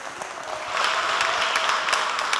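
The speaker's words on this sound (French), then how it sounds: "Applaudissements." Audience applause at a youth holiday event in a French-speaking setting, a dense steady patter of clapping that swells louder after the first moment and holds.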